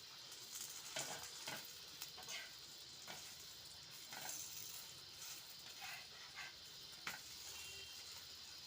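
Maggi paratha fries on a tawa in refined oil, giving a steady close sizzle with faint crackles and a few sharp spatters throughout, no talk.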